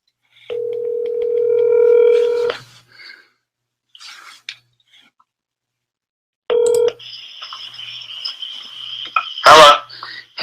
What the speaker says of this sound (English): Let's see if he answers the phone.